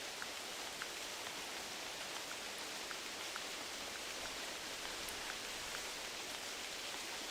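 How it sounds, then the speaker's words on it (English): Steady, loud rain in a video game hisses continuously across the whole clip, with faint scattered drop ticks and no voices. "that rain is so loud"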